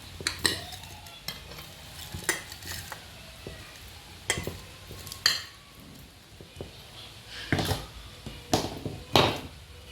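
Lemon pieces being stirred with rock salt in a bowl for a pickle, irregular close scrapes, clacks and wet rustles in uneven bursts, with no voices.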